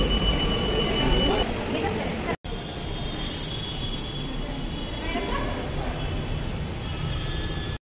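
Kochi metro train at a station, a loud continuous rumble of carriages with wheel squeal and rail noise that holds steady throughout, briefly cut out once; a voice is faintly present.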